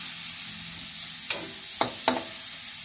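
Onion and tomato frying in a pan give a steady sizzle, broken near the end by three sharp scrapes of a stirring utensil; no voices.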